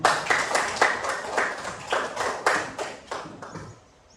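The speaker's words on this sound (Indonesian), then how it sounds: "Ya betul, tepuk tangan" A group claps hands in bursts of sharp, rhythmic claps for about four seconds, fading out at the end.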